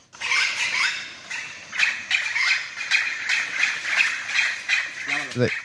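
Harsh, shrill bird alarm calls, raised as a falcon flies from the falconer, repeat in rapid rhythmic bursts at close range, followed by a brief low voice at the very end.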